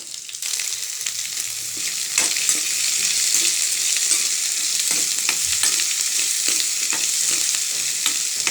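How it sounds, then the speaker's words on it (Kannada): Onions frying in hot oil with mustard seeds and curry leaves, a loud, dense, continuous sizzle with scattered crackles and stirring scrapes, heard up close and alone. "ಈಗ ಇದನ್ನು ಈರುಳ್ಳಿ ಎಲ್ಲ ಹಾಕ್ಬಿಟ್ಟು 1-2 ನಿಮಿಷ ಫ್ರೈ ಮಾಡೋಣ"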